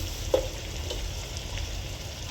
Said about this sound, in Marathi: लसूण जास्त भाजायचं नाही आहे. यामध्येच थोडंसं लाल तिखट घालायचं आहे.